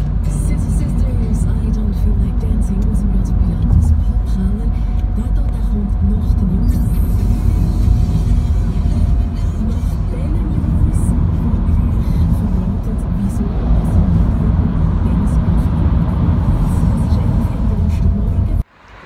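A Peugeot 208 rental car drives along with a steady, loud road and engine rumble that lasts throughout, heard from inside the cabin. The sound cuts off abruptly at the end.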